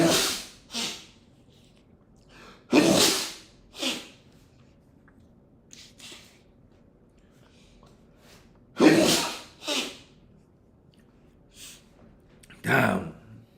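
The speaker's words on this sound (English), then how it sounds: "I'm gonna sneeze, sorry." Several sharp, breathy bursts, sneezes and forceful exhales, come in irregular spurts close to the mic, separated by quiet pauses.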